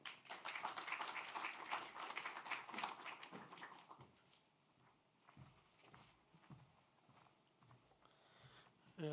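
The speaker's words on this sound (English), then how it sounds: "Big applause, please" An audience at a conference on digital e-health applauds a keynote professor: a burst of clapping that fades after a few seconds into scattered taps and quiet room noise.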